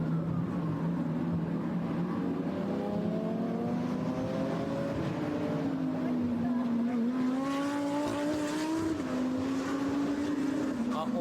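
GT3 and GTC class race cars roaring around a circuit, a loud sustained engine drone rising and falling in pitch through gear changes as cars close in, with commentary running over it.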